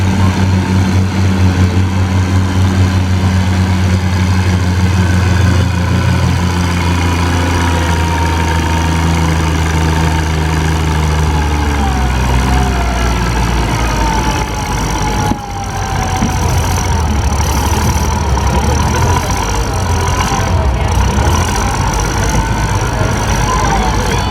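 A 1955 Oliver Super 77 tractor at an antique engine and tractor show in Spring Valley, Minnesota, its engine running steadily and loudly nearby, with a low rumble that shifts pitch partway through.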